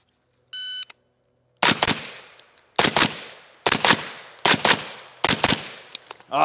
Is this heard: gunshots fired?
yes